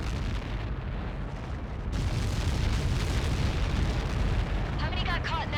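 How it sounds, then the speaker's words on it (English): A massive explosion on impact in a military aircraft video game, a dense rumbling roar that fills the whole stretch loud and close, with faint radio-style chatter near the end. "How many got caught in that explosion?"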